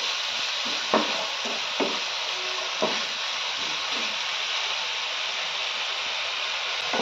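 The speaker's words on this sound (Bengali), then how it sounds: "মশলাটাকে এবার নেড়ে চেড়ে নেবো ভালো করে" Spice masala with a little water added fries and hisses in a pan under a constant loud sizzle, with a few scraping knocks from a spatula stirring it, near and without talk.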